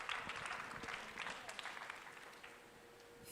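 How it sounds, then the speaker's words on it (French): An audience at a Christmas show applauds a slam poetry group, a soft, fairly distant spread of clapping that fades slightly toward the end. "On applaudit très fort pour Slam Unit"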